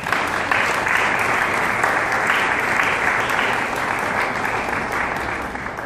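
Audience applause for mayor Jaime Lemón Saadi at a press conference launching a social campaign, a dense, steady round of clapping that fills the whole stretch at close range with no voices over it.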